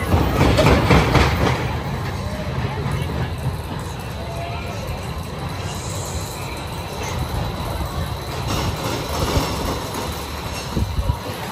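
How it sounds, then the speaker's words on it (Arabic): Amusement park ride called the death train, a roller coaster style ride running with continuous rumbling wheel and track noise, rattling and clacking throughout, steady and fairly loud with voices faintly mixed in. "راح يركبون بهاي اللعبة قطار الموت"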